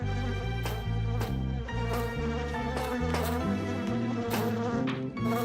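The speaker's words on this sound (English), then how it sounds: "Bees don't bite, by the way. They sting ya." A cartoon bee buzzes steadily over lively music with rhythmic bass and percussion, the insect drone loud and continuous throughout.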